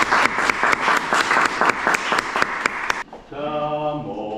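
Applause at an art exhibition opening in honor of its author, an audience clapping loudly and steadily for about three seconds before it breaks off and a song begins.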